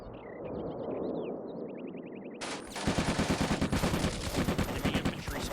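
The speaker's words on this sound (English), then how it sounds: "support element is firing" Support element gunfire in Combat Mission: Afrika Korps, a WWII desert strategy game, opens with birdsong over a low ambient bed, then breaks into loud, rapid bursts of automatic fire that pulse rhythmically to the end.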